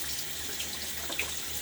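Water runs steadily from a tap into a sink while a face is rinsed after a shave, a continuous close splashing flow with a few small splashes and no talk.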